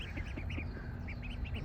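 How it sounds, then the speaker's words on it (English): Ducks on a carp fishing lake quack in a quick series of nasal calls over soft outdoor background noise, fairly close and moderately loud, with no talking. "Where the ducks have just gone into where I've been fishing."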